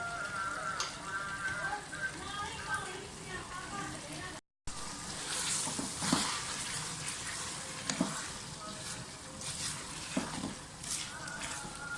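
Keema aloo sizzles and fries steadily in a pan, a soft continuous crackle with a brief dropout partway through.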